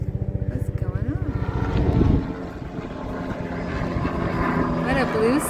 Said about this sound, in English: Well, that looks like a rescue helicopter.